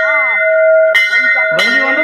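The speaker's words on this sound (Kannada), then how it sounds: "ಗಂಟೆ ಹೊಡಿ ಮಾಡ ಗಂಟೆನೇ ಹೊಡೆದಿಲ್ಲ" A temple bell at Giribetta rings with a bright, sustained metallic tone, struck again near the one-second mark and once more shortly after, each strike loud and close with long ringing overtones and no talking.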